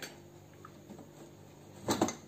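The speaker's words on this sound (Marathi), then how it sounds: "आता मी तुम्हाला लीड उघडून दाखवतोय." A cooled pressure cooker holding prawn biryani has its metal lid twisted and lifted, giving a brief quiet scrape followed by a louder clattering clank near the end.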